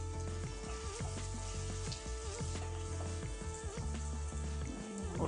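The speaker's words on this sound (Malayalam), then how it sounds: "ഉള്ളി നന്നായി വഴറ്റുന്നതുവരെ ഇളക്കുക." Onions sautéing in oil for a Kerala-style fish curry, a soft steady sizzle with occasional stirring beneath a strong low background hum.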